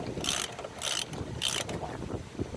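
A ratchet clicks in three quick bursts, close and fairly loud, while wheel spacer nuts are tightened on a Shithawk, with faint rustling between the bursts.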